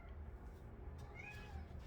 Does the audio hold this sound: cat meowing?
yes